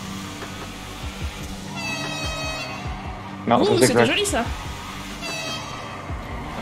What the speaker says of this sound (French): j'ai tendance à klaxonner pour rien